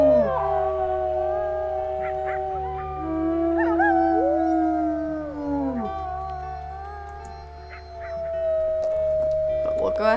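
A pack of wolves in the video game WolfQuest howls together during a rally, with long wavering tones overlapping and swelling, loud and near, over a steady low background hum.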